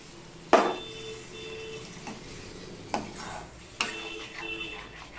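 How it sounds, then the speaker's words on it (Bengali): A ladle stirs and scrapes through a pot of vegetarian okra curry thickened with ground rice paste after water is added. A few distinct knocks and scrapes land over a quiet, low background. "এটা কিন্তু নাড়তে হবে, না হলে তলা পাকিয়ে যাবে"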